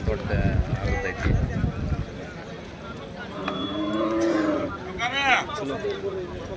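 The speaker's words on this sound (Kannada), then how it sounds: "ಲಕ್ಷ್ಮೇಶ್ವರ ಜಾನುವಾರು ಮಾರ್ಕೆಟ್ ಒಳಗೆ ಆಕಳುಗಳು ಚಲೋ ಬಂದವು" Cows at a busy livestock market in Lakshmeshwar give a couple of low, drawn-out moos amid crowd bustle and the clatter of hooves and movement.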